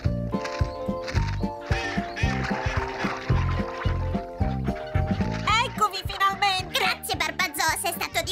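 A cartoon duck quacks in nasal, choppy bursts, mixed with animated character voices and a playful music score in the background.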